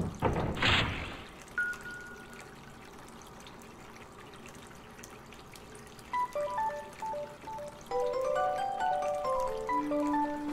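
In the Rakuen video game, water is released by pulling a switch: a brief gush of pouring water at the start fades into soft trickling and dripping, while gentle game music plays.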